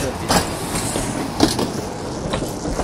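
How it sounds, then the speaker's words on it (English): A number 13 city tram in Russia passes close by on its rails, producing a loud, steady rumble with periodic clacks of wheels over rail joints and faint squeals. "Oh, the number of the tram is 13."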